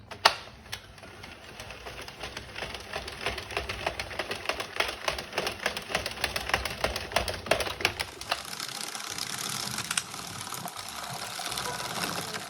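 A hand-cranked circular knitting machine works through rows of yarn, giving a steady, close rattling clatter of rapid mechanical clicks that runs the whole time and gets smoother and more even toward the end.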